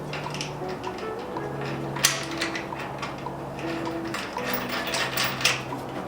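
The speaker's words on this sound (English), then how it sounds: "I'm gonna put the washer on first, and then I'm gonna thread that nut on" A washer and nut go onto a bed stiffener bolt on a Toyota Tacoma, making faint small metallic clicks and scrapes over a low steady hum, with a couple of slightly sharper taps.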